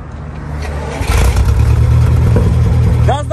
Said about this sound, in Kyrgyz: Бир от алдырыңызчы, мынуңузда башкачараак го.